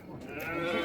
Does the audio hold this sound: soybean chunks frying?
no